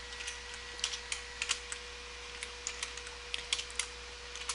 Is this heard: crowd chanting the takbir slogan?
no